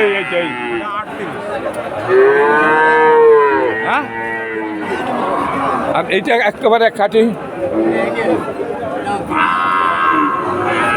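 Calves at the Udaypur cattle market in Bagerhat moo loudly and repeatedly amid crowd chatter, with someone talking close by throughout.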